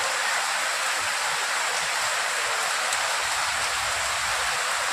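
Heavy rain pours steadily during a dark, stormy Eid day, a dense, continuous hiss of falling water with no breaks, loud and close, with no voices heard.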